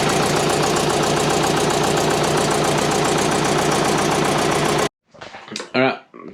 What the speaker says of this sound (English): Still got an exhaust leak somewhere.